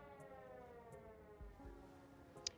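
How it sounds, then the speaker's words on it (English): Wailing sirens in the video game Schedule 1, rising and falling tones sustained faintly in the background, with a few soft clicks and thumps over the top. "Ignore those sirens."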